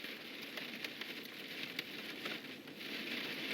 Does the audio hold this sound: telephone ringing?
no